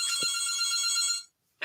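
A telephone bell rings in a single loud, bright burst lasting about a second, then stops into silence.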